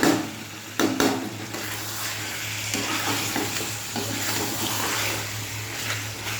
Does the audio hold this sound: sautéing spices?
yes